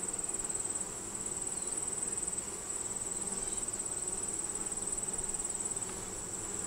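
Honey bees at a hive opened for inspection after being moved from a 5-frame to a 10-frame box, giving a steady high buzzing drone that carries on unbroken and fairly close, with no talk over it.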